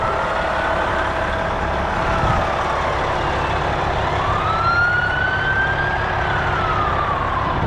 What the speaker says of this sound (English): Here go our friends at BC Ambulance off to a medical call.